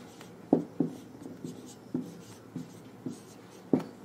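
Handwriting with a pen or marker during an English grammar lesson: a quiet series of short, scratchy strokes and light taps at an uneven pace, with no voice over them.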